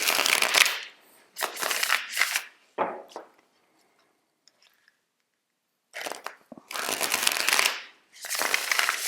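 Tarot cards being shuffled by hand in several crisp, papery bursts, close and fairly loud, with a quiet gap in the middle before the shuffling resumes.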